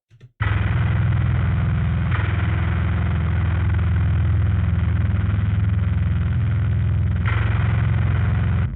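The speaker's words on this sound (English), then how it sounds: "Here's my bass tone, for example." A heavy, distorted electric bass in an industrial doom style sustains a thick, grinding low tone, loud and continuous, with a couple of fresh note attacks after a brief silent start.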